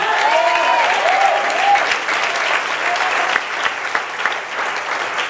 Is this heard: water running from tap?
no